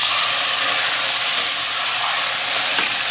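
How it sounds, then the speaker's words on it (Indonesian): Tofu sizzles steadily in hot oil, fried until half crisp for an Indonesian sambal goreng with tempeh and sweet soy sauce; a loud, continuous, close-up hiss with no voices. "kita goreng sampai setengah garing ya"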